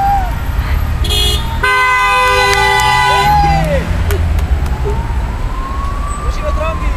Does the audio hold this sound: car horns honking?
yes